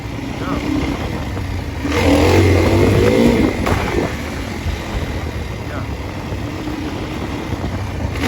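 Dirt bike engine at a wheelie strip, revving up in a loud burst that swells and then falls back under a steady background roar, with people talking nearby.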